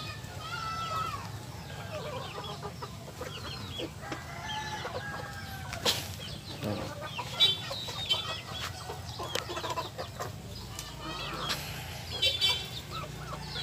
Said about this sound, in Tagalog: Ayan yung mga manok ko.